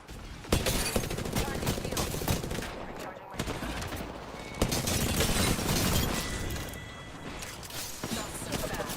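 Prowler submachine gun in Apex Legends firing in dense, rapid bursts nearly nonstop, loud and close, with brief breaks between volleys amid other battle noise.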